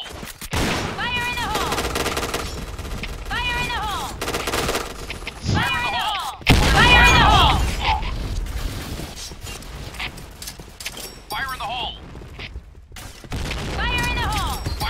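Gunfire in a shooter video game, with bursts of automatic fire and single cracking shots spread across a busy stretch, some louder and closer, mixed with metallic weapon-handling clicks and voices talking throughout.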